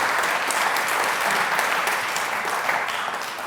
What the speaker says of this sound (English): Another round of applause over there.